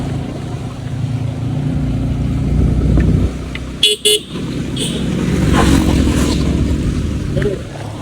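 A motorcycle rides along a road on a trip from Chennai to Kodaikanal, with a steady engine and wind drone, a short burst of horn toots midway and people talking over it.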